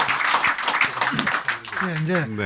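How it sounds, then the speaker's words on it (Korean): Dense applause from an audience at a Korean city government meeting fills the first half, with a voice speaking over it as the clapping thins out. "김영일 원장한테 박수 한번"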